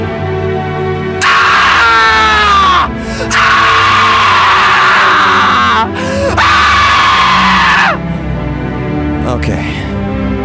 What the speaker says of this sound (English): This is a scream.